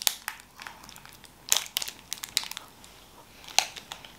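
A Carmen's muesli bar wrapper crinkles and crackles close by in irregular sharp bursts, with a few louder crisp rustles among quieter handling noise; no one speaks.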